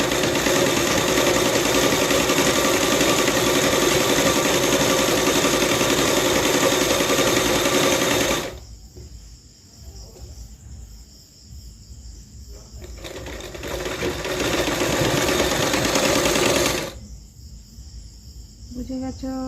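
A sewing machine runs a straight stitch on a salwar in a loud, steady mechanical whir, stopping briefly, running again, then pausing once more, close up with a quiet room between bursts.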